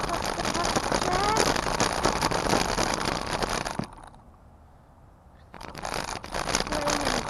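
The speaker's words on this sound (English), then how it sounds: "It's raining again." Steady rain falls outdoors on a wet street while a pushchair is readied, a dense close hiss that cuts out briefly as if under cover, then returns just as loud.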